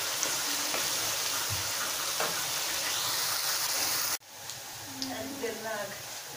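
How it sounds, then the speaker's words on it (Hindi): Onions sizzle steadily in a cup of hot oil, a dense crackling hiss close by, dropping suddenly partway through to a quieter bubbling fry with someone talking over it. "ये हमने देखिए इसको इस तरह से फ्राई करना है अंटिल के इनका कलर चेंज होना शुरू हो जाए"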